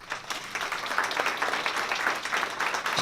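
Audience applause at a poetry reading by university faculty in an arts venue, a dense, steady wash of many hands clapping throughout, close and full, with no speech over it.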